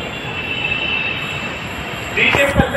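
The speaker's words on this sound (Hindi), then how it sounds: "भाई की वजह से हमारी मेट्रो निकल गई" A Delhi Metro train pulls out of the station with a steady high wheel squeal and rolling rumble, growing louder near the end, where a voice briefly cuts in.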